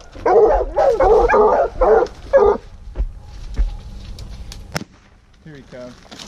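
Hunting dogs bark in rapid, loud bursts at a raccoon up a tree at night, followed by scattered thumps and a quieter stretch with a few faint yips.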